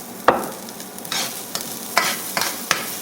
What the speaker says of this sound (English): Add a little bit more oil so the garlic can cook without burning.